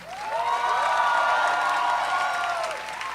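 Audience clapping and cheering after a community musical show, a steady crowd roar with whoops and shouted voices rising over the applause.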